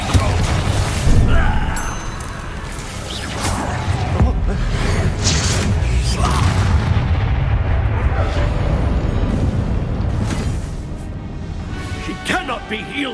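Spell explosions in the wizarding video game Hogwarts Legacy, with heavy booming blasts and rumbling impacts layered in a loud, continuous battle din, with voices heard amid the chaos.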